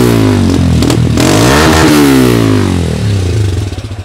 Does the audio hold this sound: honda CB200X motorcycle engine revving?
yes